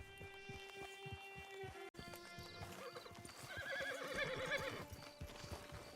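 A horse in the Red Dead Online game whinnies loudly over steady clip-clop hoofbeats, the neigh rising and falling near the middle while hooves keep a trotting rhythm and a soft music bed hums beneath.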